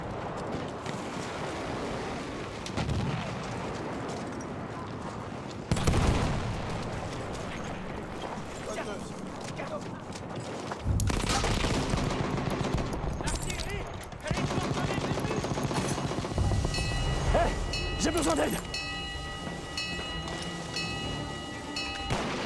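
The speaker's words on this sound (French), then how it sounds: "C'est une mitrailleuse ennemie." Enemy machine gun fire in the war video game Frontlines, coming in repeated loud bursts over a dense, noisy battle soundscape with sharp impacts throughout.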